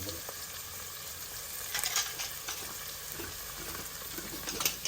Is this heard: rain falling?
no